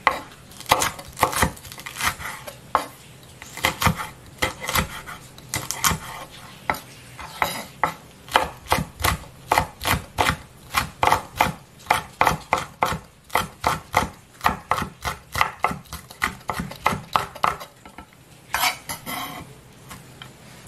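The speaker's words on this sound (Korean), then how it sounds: "이렇게 잘라서 구우시는 게 쉬워요. 길게 하면은 좀 어렵거든요. 잘게 자르겠습니다." Sharp, rapid knife chops on a cutting board as chives and three hot chili peppers are cut finely for a spicy Korean chive pancake, a dense run of crisp close strikes in uneven bursts with no talking.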